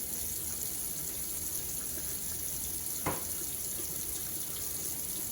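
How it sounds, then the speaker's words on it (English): Tap water runs in a steady, even stream while homegrown green habanero peppers are rinsed in a sink, with one brief splash near the end. "now that we have rinsed our peppers"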